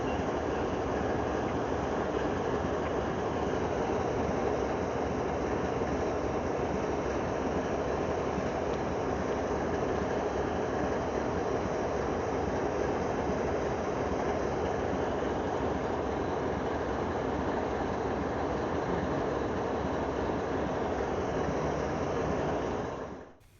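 A long CSX freight train rumbles past at a steady level, a continuous heavy roar with faint rattling of cars, fading out abruptly at the end.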